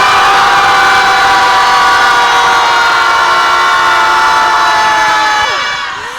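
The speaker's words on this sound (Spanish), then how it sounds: "después de este grito liberador que hicimos" Audience at an academic congress at a Colombian university letting out one long collective scream, a loud sustained wall of voices holding steady for about five seconds before trailing off.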